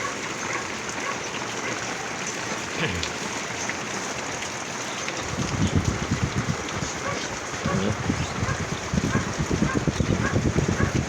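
Rain falls steadily over an outdoor vegetable market stall on a wet morning, a soft continuous patter that thickens into heavier dripping and splashing midway through.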